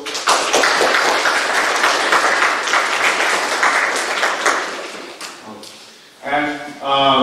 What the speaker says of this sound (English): So we welcome him with round of applause.